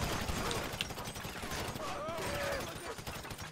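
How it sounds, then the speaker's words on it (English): Auto shotgun fire in GTA 5 Online heist combat, rapid faint bursts of gunfire crackling over game ambience with a voice talking underneath. "This auto shotgun's amazing."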